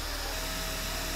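A power driver runs a screw through aluminum sheeting, 3/4 tubing and angle on a jon boat. It gives a steady, loud mechanical whine with a rapid buzzing pulse, continuous and alone with no voices.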